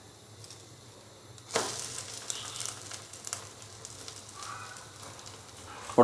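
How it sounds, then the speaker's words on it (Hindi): Bread crisps in a pan over a medium-low flame with a soft, steady sizzle. A brief sharper burst of crackling comes early, then the sound settles into a faint continuous frying hiss. "और दूसरी साइड को भी हम हल्का सा कुक कर लेंगे 2 से 3 मिनट के लिए मीडियम से लो फ्लेम पे।"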